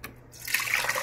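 Fresh grape juice poured out of a new home juicer: a soft, steady liquid stream and splashing that swells after a brief quiet start and runs continuously at close range, with no talking.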